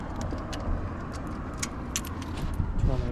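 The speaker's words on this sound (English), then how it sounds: "let me go ahead and get my keys" Metallic keys jingle in several quick clinks while being picked up before starting a Harley-Davidson Dyna motorcycle, set over a low background rumble with no speech.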